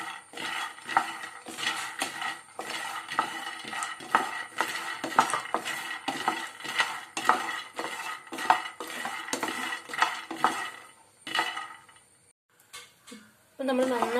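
Dry peanuts are stirred in a pan during roasting, making rapid rhythmic scraping and clinking of a utensil against metal. The stirring is close and busy, then stops briefly near the end before a final clatter.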